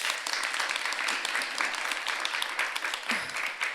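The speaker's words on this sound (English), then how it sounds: "Please give her a warm applause." An audience at an IDFA documentary festival session applauds warmly and steadily, a dense patter of many clapping hands that runs throughout with no voices.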